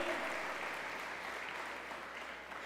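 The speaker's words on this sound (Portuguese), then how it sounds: "aplauda o Senhor pela tua vida em nome de Jesus" Congregation at a Portuguese-language Sunday church service applauding, a short wash of clapping that starts full and slowly tapers off.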